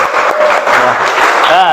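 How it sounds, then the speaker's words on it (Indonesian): Short, loud burst of applause from a classroom of automotive engineering students for a classmate, with voices talking over the clapping. "beri tepuk tangan untuk Hafiz"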